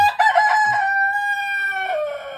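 A rooster, one of a group of Thai fighting cocks, lets out a single long, loud crow close by, its drawn-out call falling in pitch at the end over a little background noise.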